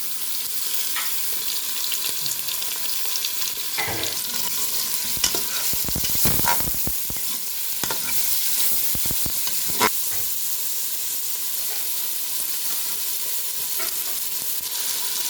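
Mutton sizzles in a pan of lightly browned onions, a steady close frying hiss punctuated by scraping spoon strokes and clanks as the mix is stirred, with no talking.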